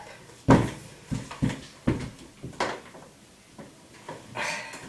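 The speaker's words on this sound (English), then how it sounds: "Let go of the door." A household door or cupboard door is knocked and rattled several times in quick succession, a series of close, sharp thumps and clacks spread over a few seconds with no talking.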